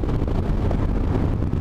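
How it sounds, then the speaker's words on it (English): Steady roaring wind buffeting the microphone while riding a motorbike on the road, loud and continuous with no talk. "That bloody wind"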